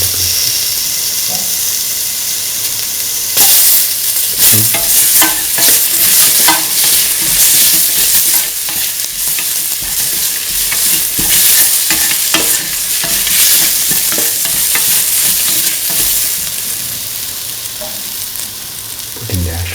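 Garlic and tomato pieces fry loudly in a pan, a dense, constant hiss and crackle that swells as they land in the hot oil and then keeps on sizzling steadily, with no voices.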